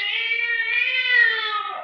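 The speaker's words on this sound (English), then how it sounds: "Gray Whiskers is my cat." A gray-whiskered cat gives one long, drawn-out meow in an old radio drama, a close, clear and fairly loud cry with a rising and falling pitch and no voices over it.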